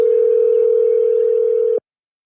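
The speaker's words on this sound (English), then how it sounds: "we're calling Devin Larratt now, ladies and gentlemen." A steady telephone tone sounds loud and close for almost two seconds, then cuts off abruptly, as an outgoing call is placed during a live commentary stream.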